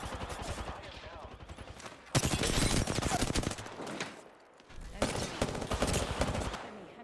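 Rapid automatic gunfire from Apex Legends comes in several dense sustained bursts separated by short gaps, loud and close, with game voice lines mixed underneath.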